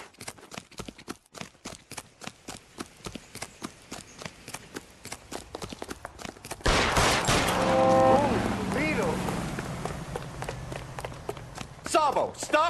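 A rapid run of sharp gunshots cracks out in an uneven volley, then gives way to a louder, busier scene with shouting voices and a few more bangs near the end.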